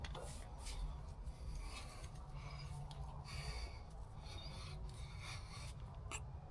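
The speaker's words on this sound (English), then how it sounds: "I'm gonna take this wire brush and some brake clean and clean out the yoke where the U-joint sits" A wire brush scrubs the U-joint yoke of a Jeep Wrangler TJ driveshaft, a faint continuous rasping with short repeated strokes and no talk over it.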